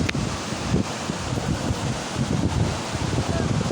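Steady wind buffeting a microphone at the seaside, with a broad rushing roar that may hide surf, continuous and fairly loud throughout.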